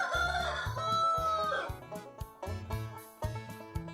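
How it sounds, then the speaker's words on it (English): A rooster crows loudly up close in a long, rising cock-a-doodle-doo, followed by a series of shorter clucking calls, with no voices over it. "This is a rooster. He likes to crow."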